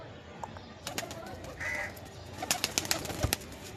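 Pigeons at close range while being hand-fed chickpeas, one soft coo in the middle among scattered wing flaps, pecks and light clicks, no voices.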